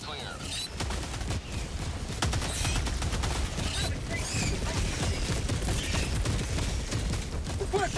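Orbital barrage strike in Helldivers 2, a sustained loud fusillade of rapid heavy impacts and gunfire-like blasts rolling on without pause, with a game voice calling out over the din.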